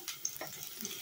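Garlic frying in a pan, a soft continuous sizzle with faint crackles and a stirring scrape, close but quiet.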